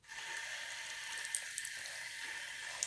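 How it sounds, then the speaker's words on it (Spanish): Water from a hose pours steadily in a home bathroom, a constant hiss and splash close by with a few small clicks and knocks over it. "vamos a prender la manguera como llamen en su país"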